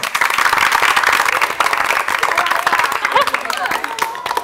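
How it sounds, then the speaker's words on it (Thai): A studio audience on a television show claps loudly and continuously for several seconds, a dense wash of applause with voices and a whistle mixed in. "ขอเสียงปรบมือต้อนรับคุณจอร์ธาดาวาริกและทีมครับผม"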